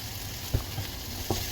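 Spices, meat and caramelized onions frying together in a pan for Persian lentil rice, with a steady sizzle and two brief scraping stirs, close and moderately loud, no talking.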